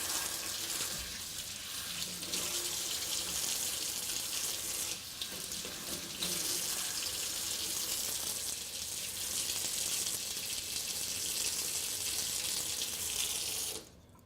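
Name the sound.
tap water washing raw chicken in sink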